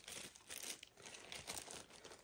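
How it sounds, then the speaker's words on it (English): Ziploc plastic bags crinkle and rustle up close in irregular handling bursts, quiet but distinct, with no speech. "I've got a couple of plastic bags here."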